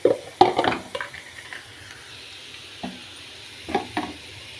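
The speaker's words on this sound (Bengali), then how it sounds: "এখন আমি দিয়ে দিলাম আদা রসুন।" Onion frying in a pan as ginger and garlic go in: a burst of clatter and sizzle at the start, then a quiet steady fry broken by a few brief stirring clinks.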